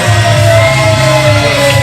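A crowd at a 1CW independent wrestling show shouts and cheers during the Sam Beale versus Myles Millennium match, a loud, close roar of yelling and whooping voices that stays dense and continuous throughout.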